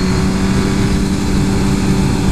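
Engine of a Suzuki GSX-R 1000 superbike on a race track, fitted with a new engine: a steady, loud, droning hum holds without a break, with no gear changes or voices.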